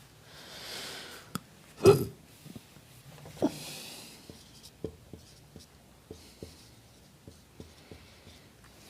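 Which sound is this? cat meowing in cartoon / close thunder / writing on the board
writing on the board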